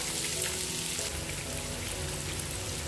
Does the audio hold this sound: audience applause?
no